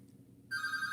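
A telephone starts ringing halfway through, a bright electronic trill sustained to the end after a quiet start, fairly near and without talk.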